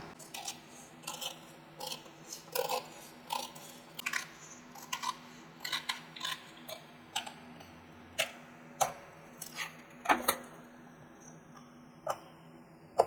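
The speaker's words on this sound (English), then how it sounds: "I'm going to take my scissors and I'm going to trim it out" Scissors trim the glued paper edge of a composition book up close. Quiet, crisp snips and clicks repeat at an irregular pace, about one or two per second, over faint background hiss.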